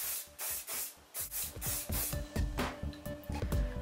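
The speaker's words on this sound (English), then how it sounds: "Spray it with a bit of hairspray so it stays." Hairspray is sprayed onto a curly up-do in a rapid series of short, close hissing bursts, each a second or less, with brief pauses between them and no talking.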